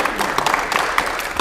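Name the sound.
applause for correct answer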